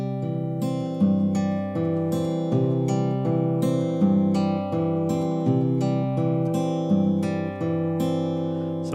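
Acoustic guitar fingerpicked in a steady Travis pattern, a repeating treble figure over an alternating bass line, played clearly and close with no talking.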